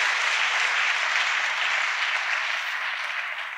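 A church congregation at an evening service breaks into steady, dense applause, the clapping loud and continuous throughout with a slight easing at the end.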